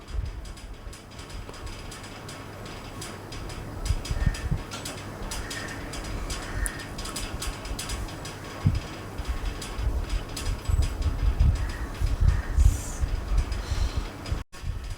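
A sewing machine runs steadily in a continuous mechanical whir, stitching a double seam on a kids' sharara pant at a half-inch margin; the motor drones close and fairly loud throughout, with slight surges, and no one speaks.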